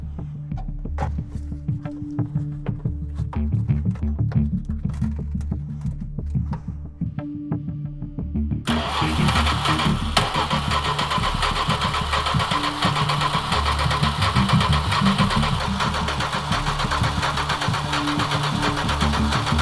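An old vehicle engine cranks and turns over roughly, then catches at about nine seconds and settles into a loud, steady, slightly knocking idle close by, with no talking.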